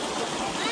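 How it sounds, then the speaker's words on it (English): Flowing stream water at an outdoor hiking spot in Mpumalanga, a steady close wash of running water with no break. "the sound of the water is very nice."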